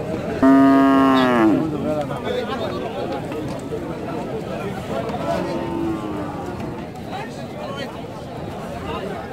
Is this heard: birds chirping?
no